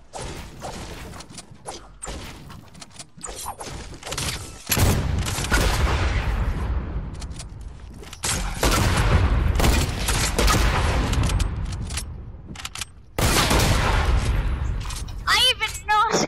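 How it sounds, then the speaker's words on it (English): Proximity grenade launcher firing in a video game, with loud, dense blasts, booms and whooshes running almost continuously, broken by a few brief gaps. "Every time you keep shooting the proximity grenade launcher"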